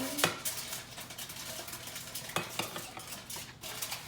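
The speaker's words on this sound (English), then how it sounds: "You probably want to mix it at a pace like this." A utensil stirs almond flour bread batter slowly and gently in a bowl, producing soft, steady scraping and clinking at close range with no talking.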